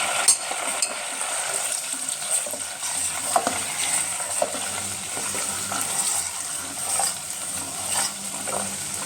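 Steady sizzling and bubbling of melting butter in a pan, continuous and close, with faint occasional stirring clicks.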